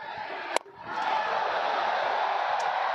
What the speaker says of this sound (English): It's already been mentioned how terrific the crowd is